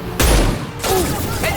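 Gunfire in Mass Effect 2: two sharp, loud bursts a split second apart, each with a short booming tail, with a faint electronic whine between them.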